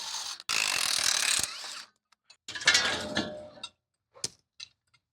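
A wrench ratchets on 3/4 inch bolts and nuts holding a trailer brake backing plate during an axle teardown, with bursts of rapid clicking separated by short pauses, close and clear, ending in a few sparse taps.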